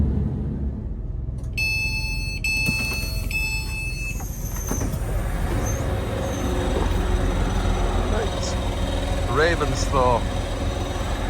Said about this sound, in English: So we'll see this train out, then we'll head over to Arthur's.